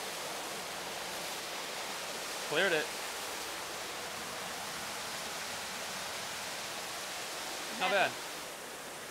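Steady broadband rush of a waterfall on a mini golf course, constant and close throughout, with two brief bursts of other sound rising above it and a voice speaking briefly.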